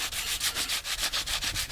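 Sandpaper rubs on a wooden piece in quick, even back-and-forth strokes, about ten close raspy passes with no talk.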